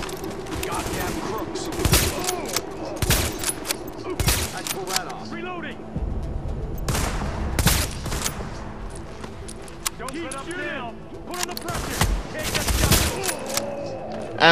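Gunfire in the video game The Division, with dense bursts of rapid automatic shots and single cracks, loud and close, repeating throughout as someone talks over the action.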